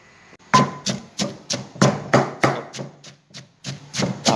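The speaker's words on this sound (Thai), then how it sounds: "ตำก่อนแป๊บๆครับ" Tamarind pounded in a mortar with a pestle, about a dozen steady, close thuds at an even rhythm, each hit a dull knock with a short scrape.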